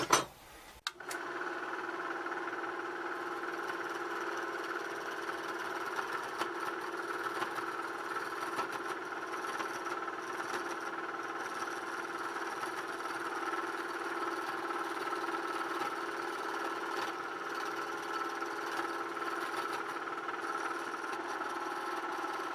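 A drill press run as a makeshift lathe drones steadily and evenly for a long stretch, with a file scraping a turning wooden handle faintly and intermittently against the motor hum after an opening clunk.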